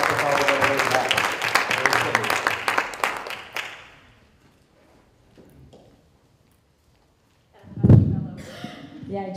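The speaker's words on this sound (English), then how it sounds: "Give them a round of applause, too, for the work that brought this all the way back." An audience at a benefit auction panel claps in a dense burst of applause that fades after a few seconds. A quiet stretch follows, then a single loud thump and some speech near the end.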